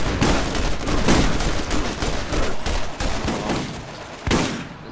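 Shotgun blasts in the Borderlands video game fire in a dense, rapid barrage of loud booming shots, overlapping with each other and the game's noise, with no voices over it.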